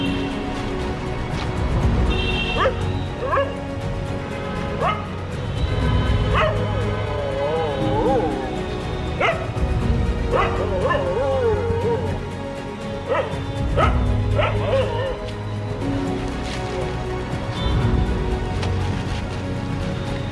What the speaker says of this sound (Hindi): यहाँ पे करीब 1 2 3 4 5 6 कुत्ते हैं।